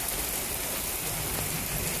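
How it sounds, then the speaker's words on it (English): Steady rain pours outdoors on a hot 85-degree summer day, a dense continuous hiss of drops close by with no voices over it. "Can I feel the rain?"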